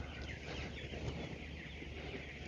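A large flock of young chicks being moved out to a new pasture, cheeping in a dense, continuous chorus close by, with no voices.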